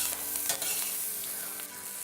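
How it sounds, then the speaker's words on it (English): Butter browns around chicken in a cast iron pan, giving a continuous soft sizzle with occasional stirring scrapes, fairly quiet and close with no voices. "Because we're going to actually allow the butter to brown"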